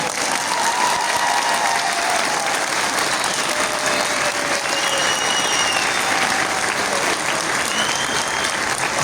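Sustained, dense applause from an audience at a Ramadan evening faith and poetry program in Sultangazi, loud and steady for the whole stretch with no break.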